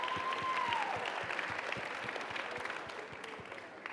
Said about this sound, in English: can we get another huge ASU+GSV round of applause for our amazing presenters?